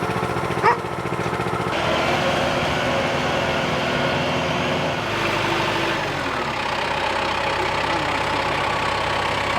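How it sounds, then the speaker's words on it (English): A motorized sugar cane mill driven by a forklift hydraulic wheel motor runs steadily at a farm syrup-making setup in Lower Alabama, a continuous mechanical engine-like drone with a brief knock early on and a shift in tone midway. "It's from a forklift hydraulic wheel motor."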